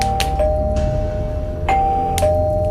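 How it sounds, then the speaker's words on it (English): A doorbell rings repeatedly as a sound effect in a spoken creepy story, with sharp electronic chimes striking several times over a low, steady background rumble. "The doorbell rang and rang, but my father was silent."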